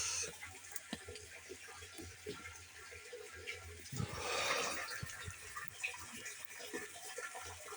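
Water pours from the open tap of a homemade rainwater collector outdoors in the rain, a steady hiss that surges louder for a moment, with breathing and small handling noises nearby.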